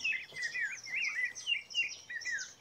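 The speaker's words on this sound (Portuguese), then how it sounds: "Vocês estão vendo bastante passarinho cantar aí?" Small birds sing near a nest, a run of quick, high, bright chirps and short warbling phrases repeating without pause, clear and fairly close against a quiet background.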